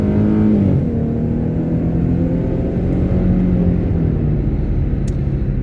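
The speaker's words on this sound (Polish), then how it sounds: "słychać, że to gada silnik nie jakiś sztuczny dźwięk w kabinie" A Dodge Challenger engine revs steadily and loudly nearby, its pitch rising and holding as it runs, with no talking.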